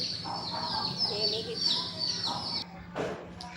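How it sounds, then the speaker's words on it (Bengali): Chickens kept beside a city rooftop cluck in a run of close, repeated calls, with a brief pause and then another burst of clucking near the end. "এখানে মুরগির ডাকটা একটু শুনেন, কি ভালো লাগছে।"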